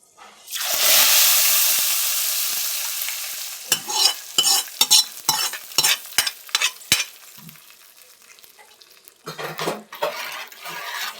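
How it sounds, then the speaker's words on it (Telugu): A loud burst of sizzling erupts as hot oil tempering with asafoetida hits sambar, fading gradually, followed by repeated metal spoon clinks and scrapes against a pot. "మనం పెట్టుకున్న పోపుని సాంబార్లోకి వేసేసుకుందాం."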